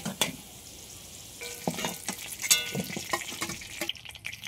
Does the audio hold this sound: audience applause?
no